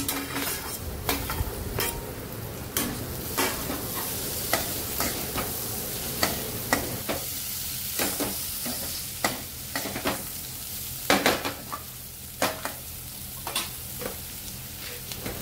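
Roasted green rajma bean pods sautéing in oil in a pan, a steady sizzle broken by regular scrapes and taps of a spatula stirring, close and clear with no talking.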